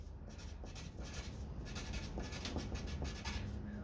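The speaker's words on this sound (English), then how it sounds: "I'm just gonna write King." Pen or pencil scratching across paper in a quick run of short strokes, quiet and close, with no voices.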